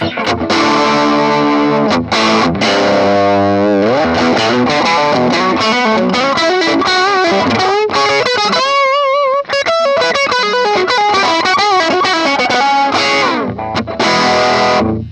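A 2014 Gibson Les Paul Futura electric guitar played with heavy distortion and a boosted tone, sustained chords and bending notes, loud and continuous, with no voices.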